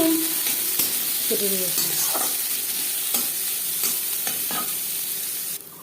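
Chopped onion and garlic cloves sizzle in refined oil in a pan while being stirred, with a utensil scraping now and then. The frying hiss is steady and close, and a voice speaks briefly at the start.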